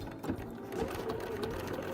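A sewing machine runs a steady, continuous stitching hum while sewing a spring coat, its motor buzzing evenly and close up throughout.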